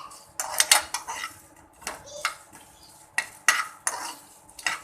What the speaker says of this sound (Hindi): अब इसको थोड़ा सा हम रोस्ट कर लेंगे।